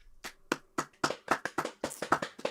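Steady hand clapping up close, a dozen or so sharp claps in an even rhythm that grows slightly quicker and louder.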